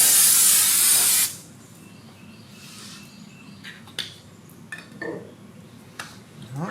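A short, loud burst of aerosol brake cleaner hisses for about a second, followed by quiet clicks and light metallic clinks.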